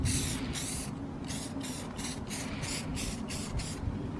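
Rapid, regular bursts of spray paint hiss from an aerosol can being used on a pickup truck, close and steady over a low background rumble.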